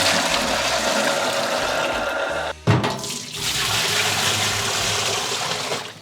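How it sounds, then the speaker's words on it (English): Hot water rushes steadily through a CIP ball in a homebrewing vessel and drains out of a bottom port. The loud continuous gush breaks briefly near the middle and then resumes, with no talk. "just sort of flush it out by running hot water through the CIP ball"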